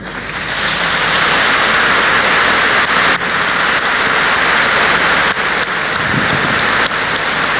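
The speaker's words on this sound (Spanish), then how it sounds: "Te aplaudo." Loud, sustained audience applause fills a business forum panel interview in Los Andes, a dense wash of clapping that runs steadily from start to finish with only brief dips.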